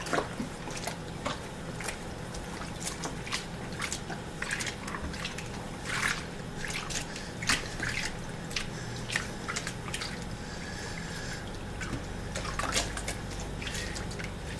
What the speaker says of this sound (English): Right now I'm just pushing it into the water